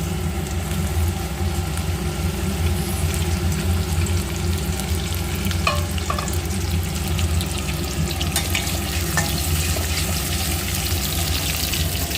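Continuous loud sizzle of chopped onion frying in leftover fish-frying oil, steady throughout, with a few faint clinks of a spatula.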